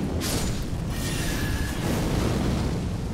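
A Magma Shot sorcery in Elden Ring fires and bursts, a dense rumbling eruption with a sharp initial blast, followed by sustained crackling noise and no speech.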